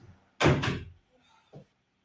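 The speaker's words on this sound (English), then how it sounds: "Maybe I'll close that door." A door swung shut indoors, landing as one loud close with a trailing rattle, followed moments later by a softer thump in an otherwise quiet room.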